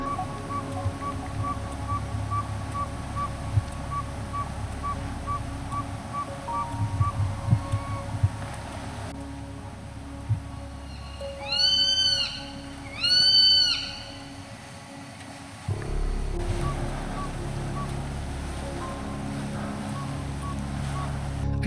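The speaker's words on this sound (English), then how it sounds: "the owls responded back almost immediately" Two short hooting owl calls come in quick succession over a quiet outdoor background with faint hum, distant and fairly soft.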